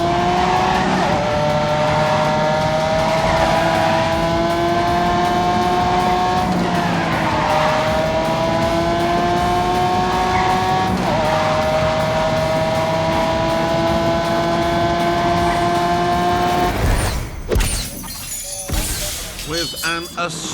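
A race car in The Grand Tour video game roars at high revs, its engine note climbing in repeated sweeps as the gears change, with voices over parts of it, then ends in skidding tires and a shattering crash.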